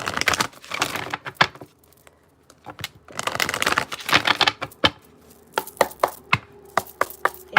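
Tarot cards riffled and shuffled by hand during a reading, with bursts of crisp slapping and fluttering clicks in irregular clusters, close and moderately loud, separated by brief quiet gaps.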